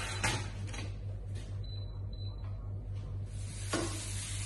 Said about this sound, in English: Onion and garlic cooking along nicely.